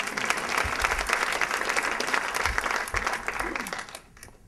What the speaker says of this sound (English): Well, come on, clap,